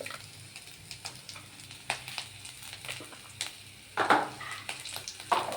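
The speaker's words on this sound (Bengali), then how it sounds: "আমি এবার আলুটাকে ভালোভাবে মশলার সাথে মিক্স করে নিচ্ছি" Boiled potato being stirred with chilli, turmeric, coriander and cumin powders in a frying pan, a soft continuous sizzle broken by scraping, crushing strokes of the spatula that grow louder toward the end, no voices.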